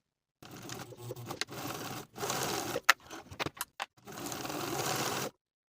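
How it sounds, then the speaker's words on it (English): A sewing machine sews the shoulder seams of a cardigan with a 5/8 inch seam allowance, running in close, steady bursts: a long run, a short one, a few quick stuttering stitches, then another sustained run. "Then I'll sew those shoulder seams with a 5/8 inch seam allowance"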